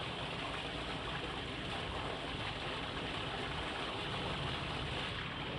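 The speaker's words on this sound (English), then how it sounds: "This is a lot of water moving around" Floodwater rushes into a street storm drain, heard up close as a loud, unbroken roaring wash of water that stays steady throughout, with no voices.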